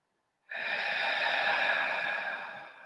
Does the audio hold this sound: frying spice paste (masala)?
no